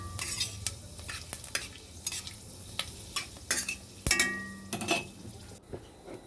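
Panch phoron spices and a dried red chili hit hot oil in a pan for aloo posto, giving a steady sizzle with stirring scrapes and clinks of a spoon against the pan, close and alone.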